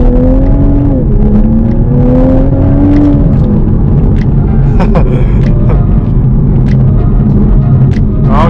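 A 2021 Toyota Supra MK5 A91 engine revs loud and close, rising in pitch before dropping back, then settles into a steady rumbling idle with a few short throttle blips.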